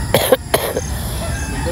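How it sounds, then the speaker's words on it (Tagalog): Outdoor walk, three quick harsh coughs close to the microphone in the first second, followed by quiet background ambience. "Yung ubo ko."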